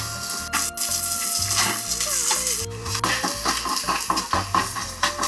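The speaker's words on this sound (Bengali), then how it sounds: "এবার টুকরো আলু দিয়ে মিনিট 5 নেড়ে চেড়ে দিয়ে দেব কিছুটা কুচনো পেঁয়াজ" Potato pieces and chopped onion frying in oil, with a soft, steady sizzle under scraping strokes of a spoon or spatula against a pan, plus scattered clinks, close and fairly loud.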